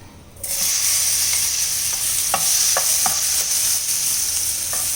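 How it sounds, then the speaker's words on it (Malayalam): Plantain pieces sizzle steadily in hot ghee, with occasional clicks of stirring against the pan, close and continuous. "ഇനി അതേ പാനിലേക്ക് നമുക്ക് ഏത്തയ്ക്ക നുറുക്കി വെച്ചിരിക്കുന്നത് ഇട്ട് വഴറ്റിയെടുക്കാം."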